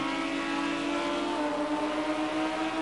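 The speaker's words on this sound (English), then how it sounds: "So we've got a BMW Z4 being challenged by a McLaren there." GT3 race car engines in a racing game at Sonoma, a BMW Z4 and a McLaren: a steady, loud, droning whine with a held pitch that shifts slightly partway through, with no speech over it.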